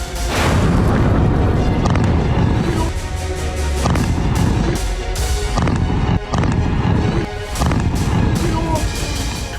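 Booming blasts from a Russian Oreshnik missile strike, heavy low rumbles and sharp detonations rolling continuously and loud, with brief gaps between bursts.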